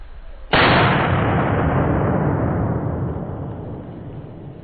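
A single very loud .45-70 derringer pistol shot cracks out close by, followed by a long booming echo that slowly fades over several seconds.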